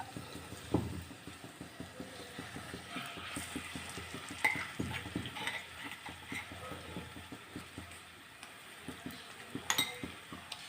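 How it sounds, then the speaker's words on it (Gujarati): Ground dates roast in melted ghee over a medium-low gas flame, with a soft sizzle under rhythmic scraping stirs of a spoon against the pan, repeated steadily and close. "સરસ એવા ખજૂરને આપણે શેકી લેવાનો છે અને ગેસની ફ્લેમ મીડિયમ ટુ લો કરી દઈશું"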